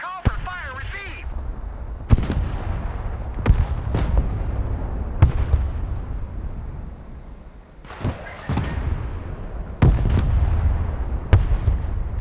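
Mortar artillery in the Broken Arrow war game fires in sharp, booming reports roughly every second or two, with rumbling explosions between shots and a brief radio-style voice effect at the start.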